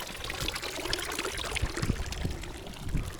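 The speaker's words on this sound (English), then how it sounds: "Water fountain." An outdoor water fountain in Switzerland splashes and patters steadily nearby, a continuous wet churning with small irregular surges.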